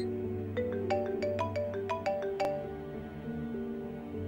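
A phone ringtone plays for an incoming call from a police inspector, a bright repeating melodic chime of quick tones over a low hum, ringing for a few seconds before trailing off, with no talking.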